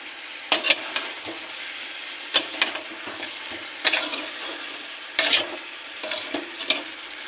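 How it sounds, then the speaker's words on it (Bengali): Fried chicken and potatoes sizzle in a pan for chicken biryani while a spatula scrapes and stirs them, giving a steady frying hiss broken by clusters of sharp close scraping strokes. "এবার এর মধ্যে ভেজে ভেজে রাখা চিকেন আর আলুটাকে দিয়ে দেবো দিয়ে একটু কষিয়ে নেব"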